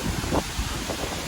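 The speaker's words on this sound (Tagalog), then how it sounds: "Ang hangin dito." Steady wind rushes across the microphone in a broad, constant roar in Beitou, Taipei, with faint rustling and a distant watery wash beneath it.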